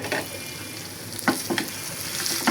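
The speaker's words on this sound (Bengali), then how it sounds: "রসুন আর পেঁয়াজ বাদামি করে ভেজে নিচ্ছি" Garlic and onion fry in hot oil for a dal tempering, a close steady sizzle with a few sharp crackles and pops as the pieces are stirred, and no voices over it.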